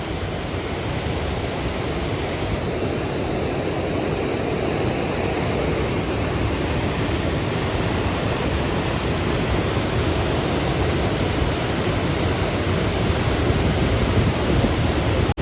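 The flooded Beas river in Kullu-Manali rushes past in a dense, steady roar of churning water, loud and unbroken throughout.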